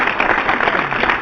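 Crowd applause at an Eagles football talk show, a dense steady wash of many hands clapping at once, loud and unbroken for about a second with no voices over it.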